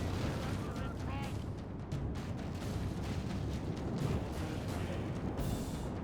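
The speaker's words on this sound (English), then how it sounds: "These towers are firing." Towers fire continuously in a Lord of the Rings strategy battle game, a dense, rumbling barrage of overlapping blasts and impacts that stays loud throughout with no pauses.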